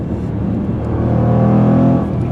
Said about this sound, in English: Man, listen to that V8. It is ferocious. It is a snarling cat.